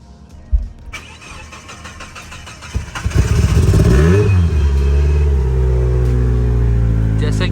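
A Mitsubishi Lancer Evolution 8 cranks and fires up, a short starter whir giving way to a loud, close engine that rises then settles into a steady rumbling idle, with a few clicks beforehand.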